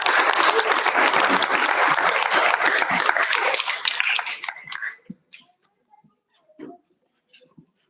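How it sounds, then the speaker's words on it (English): Audience applause at a school board meeting, dense clapping for about four seconds that fades out, leaving a few faint scattered sounds in a quiet room. "Another round of applause for Mr. Thomas."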